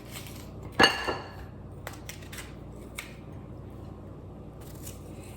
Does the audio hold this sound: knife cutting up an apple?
yes